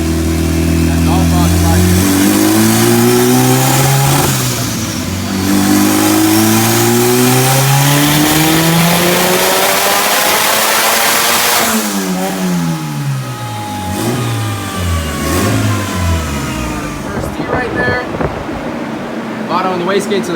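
A turbocharged all-wheel-drive Honda engine on a dyno revs through a long climbing pull, drops, then climbs again in shorter bursts. It is loud and close, with a rising, harmonic-rich drone.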